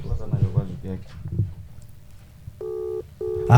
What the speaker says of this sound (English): Let's see if it's gonna ring.